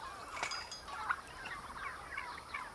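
A wild turkey gobbles in a few rough, rattling bursts, fairly close against a quiet outdoor background.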